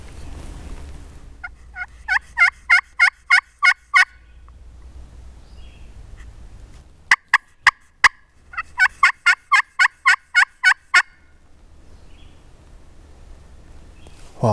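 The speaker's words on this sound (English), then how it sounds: "Gobbled again, hammering." A wild turkey gobbler on Wisconsin public land at dusk gobbles twice in quick succession, each a loud rolling rattle of rapid notes, close and clear, with a few sharp clucking notes between and no voices.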